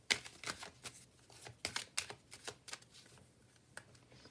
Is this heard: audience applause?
no